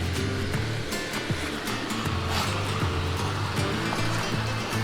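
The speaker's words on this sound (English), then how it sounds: "Multiple little streams run through the campground here, so it's like you almost always have the sound of rushing water." Small streams running through a mountain campground in Black Mountain, North Carolina, a continuous broadband rush of flowing water, close and steady throughout.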